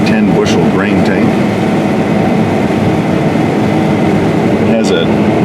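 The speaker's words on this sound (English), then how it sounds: "This big Class 9 combine is 550 horsepower." A Case IH 9240 Class 9 combine with a 550-horsepower engine harvests soybeans, giving a loud, steady mechanical drone with a few brief higher-pitched whines.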